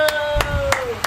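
An audience at a Las Vegas wrestling-themed show claps in a slow, steady rhythm, four distinct claps across about a second, over a sustained tone and a low crowd murmur.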